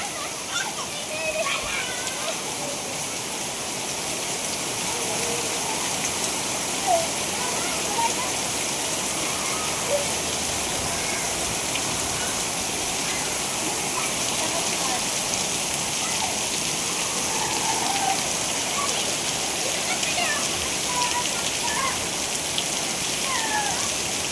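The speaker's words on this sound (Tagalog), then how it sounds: "Grabe yung ulan, may lakas." Heavy rain pours steadily and loudly throughout, a dense hiss of water drumming on surfaces with no letup.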